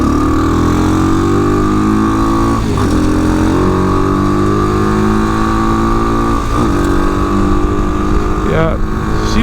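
A TaoTao 250 Chinese dual sport motorcycle engine drones steadily and loudly while riding, a continuous close harmonic hum with slight pitch shifts throughout.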